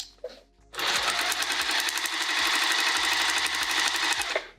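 A sewing machine bastes the edges of a quilted pouch, running fast and steady for several seconds after a brief start, close and loud with a rapid even stitching rhythm and no speech.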